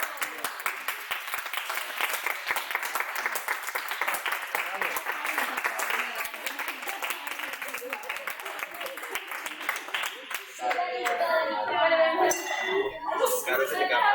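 An audience at a church prayer-week gathering claps in sustained applause for about ten seconds. The applause then thins out while people chat and laugh nearby.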